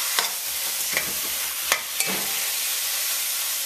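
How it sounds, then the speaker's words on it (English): Pork ribs being stirred in a pot for a stew, with a few sharp scrapes and clinks of the spoon over a steady background sizzle of frying meat. "moving the pieces of ribs because we want to pick up all that color and everything coated nicely"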